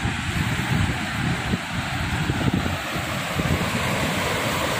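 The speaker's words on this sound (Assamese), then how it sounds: "এইবিলাক ঢৌ আহি আছে কি চাউণ্ড দেখা পাইছেনে মোৰ চাউণ্ড শুনা পাইছেনে" Ocean waves break on the shore at night near a lighthouse, a continuous loud wash of surf mixed with strong gusts of wind buffeting the microphone.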